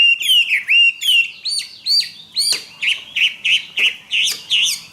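A Chinese hwamei songbird sings close and loud, with a steady run of bright, whistled phrases that mix slurred notes and sharp trills, repeating about every half second with no talk.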